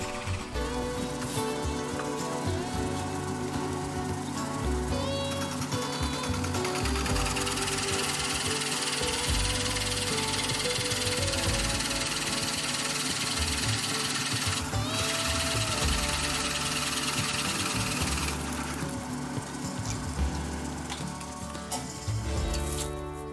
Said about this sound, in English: A 35mm Forstner drill bit did this job.